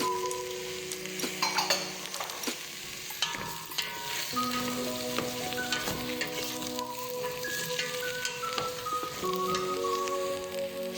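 Onion, carrot, potatoes and cauliflower fry together in a pan, a steady bubbling sizzle with repeated scrapes and clinks of stirring up close.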